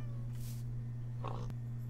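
A cat meowing in the Minecraft video game, a brief faint meow or two over a steady low background hum, with a short click near the end and no talking.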